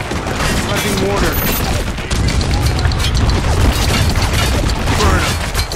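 In the Spec Ops: The Line white phosphorus mission, loud bursts of gunfire and heavy explosions crash continuously and up close, with shouted voices mixed into the battle.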